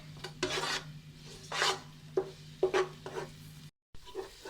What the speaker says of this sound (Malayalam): ഇതിൻ്റെ ഒരു പച്ചമണം മാറുന്ന വരെ നല്ലപോലെ വഴറ്റിയെടുക്കാം, നല്ല ഗോൾഡൻ കളർ ആകണ വരെ.